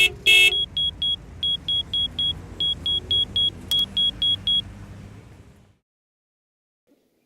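Car dashboard red button giving a steady series of short, bright electronic beeps in an even rhythm, with a low vehicle rumble underneath that fades out, leaving silence.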